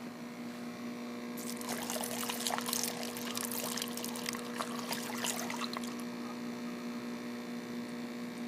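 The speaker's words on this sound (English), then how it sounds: "I'll pour off the liquid, and then I'll swirl up the yeast cake" Beer is poured off a settled yeast cake, a broad splashing pour from about 1.5 to 6 seconds over a steady mains hum, which continues alone before and after the pour; no one speaks.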